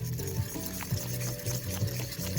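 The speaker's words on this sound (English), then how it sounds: "Let's give it a stir." Soupy Nissin Geki spicy carbonara chicken-flavour instant noodles are stirred in broth, giving soft repeated sloshing and scraping strokes in a short, close burst.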